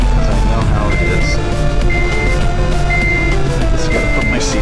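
A 2007 Honda Civic Si coupe sounds its seatbelt warning chime as a steady series of short, evenly spaced beeps over loud road and engine noise inside the moving car.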